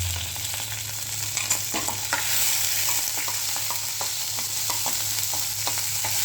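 Mustard seeds and cumin splutter in hot oil for herbal rasam, with scattered sharp pops and crackles over a steady sizzle, close up, and no voices.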